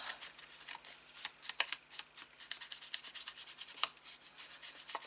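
An ink pad rubbed along the edges of paper pieces for a pop-up album page, giving quiet, close, irregular dry scuffing strokes with no talk.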